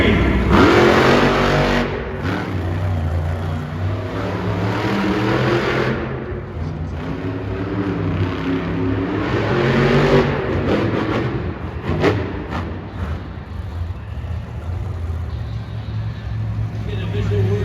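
A Gravedigger monster truck engine roars through a timed racing run at an indoor arena, its loud rumble swelling and easing across the run while an announcer talks over it almost continuously.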